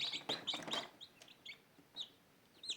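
Faint, high-pitched peeping of newly hatched chicken chicks at the end of incubation, a scattered series of short chirps, quiet and close, with no talking.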